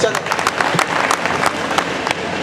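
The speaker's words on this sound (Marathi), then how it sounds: "जोरदार टाळ्या पुन्हा एकदा त्याच्या." A reunion gathering claps loudly for a member. Many hands give a dense, sustained round of applause with sharp individual claps, and voices can be heard in it.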